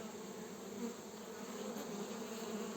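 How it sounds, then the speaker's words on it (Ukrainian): A steady, dense buzz of many bees swarming around a beehive during an attack on the colony, searching for a way in; close and continuous with no pauses. "Шукають будь-який отвір, щоб потрапити всередину вулику."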